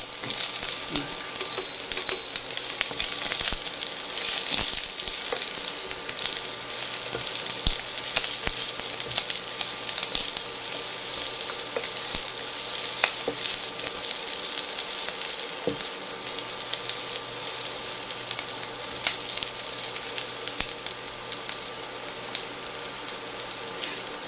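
Sliced onion and garlic fry in a pan for bicol express with a continuous soft sizzle and crackle, fairly quiet and steady, broken by an occasional faint tap or scrape and no talking.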